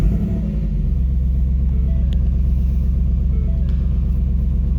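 A 2018 Mustang GT V8 engine with active exhaust fires up and settles into a deep, steady rumbling idle, loud and close, with no talking.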